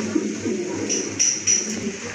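Soft, throaty cooing from pigeons for sale close by, a few low murmuring calls overlapping in a quiet indoor space.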